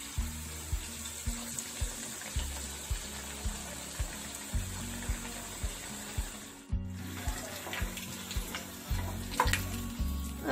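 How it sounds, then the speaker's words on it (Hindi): Eggplant fritters (beguni) frying in a pan of hot oil, a steady close bubbling sizzle running throughout with a brief dip partway, with no talking. "अब मैं दूसरा बैगुनी डाल देती हूँ।"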